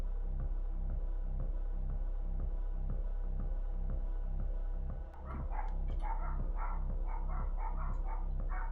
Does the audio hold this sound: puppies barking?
yes